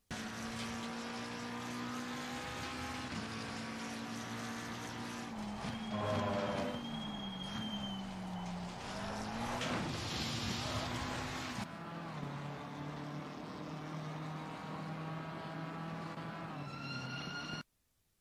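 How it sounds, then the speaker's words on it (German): A BMW and a McLaren race car engines roar and shift as they brake and accelerate, with pitch dropping and climbing through gear changes, loud and continuous before cutting off abruptly. "Achtet mal darauf, wo der McLaren bremst."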